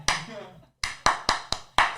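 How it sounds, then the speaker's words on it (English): A clap marks the sync point while recording a podcast in a bathroom, followed by a quick run of five more sharp claps, close to the mic and evenly spaced. "Sync clap."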